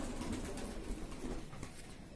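Fantail pigeons in a loft coo softly amid a dense, steady background murmur of birds, with no voices.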